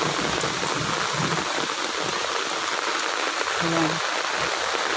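Steady, dense heavy rainfall hisses continuously, with a brief faint tonal sound near the end.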